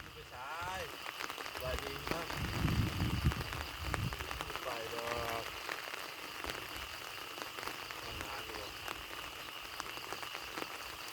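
Steady, heavy overnight rain hisses across the whole recording at a home in Non Sung, Thailand, while people talk over it, louder near the start.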